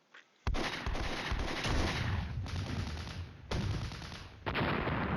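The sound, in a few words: gunfire at helicopter and tanks in Flashpoint Campaigns video game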